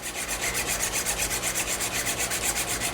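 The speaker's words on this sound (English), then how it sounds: "you want to sharpen this back and forth at about this tempo right here for about 60 seconds" Barber's clipper blade rubbed back and forth on a blade sharpener, a close, even rasping scrape repeating at a steady quick tempo with no pauses.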